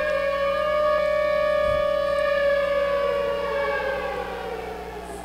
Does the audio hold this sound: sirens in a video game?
yes